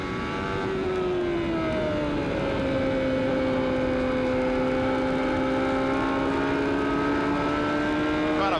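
A 1994 CART race car at Nazareth runs with a rough engine, giving a sustained droning whine that holds steady for several seconds, loud and continuous with faint commentary beneath it.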